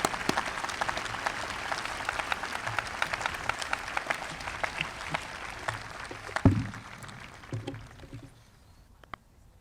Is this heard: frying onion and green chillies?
no